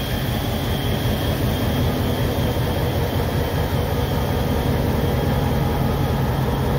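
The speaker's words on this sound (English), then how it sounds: "We'll let the train run over." A locomotive-hauled train rumbles steadily over a freshly tamped muddy track, a dense continuous roar of wheels on rails, close and loud throughout.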